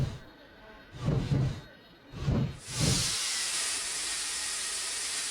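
A steam locomotive gives a few heavy chuffing bursts, then a loud, continuous hiss of steam that holds steady to the end.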